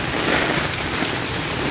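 Heavy rain pours steadily during a storm with hail, a dense continuous roar of drops hitting surfaces close by, with no voices.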